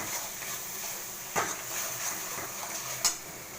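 Spoon on a pan as chicken is stirred with a little sugar and salt: faint scraping over a steady background hiss, with two sharp clinks of metal against the pan.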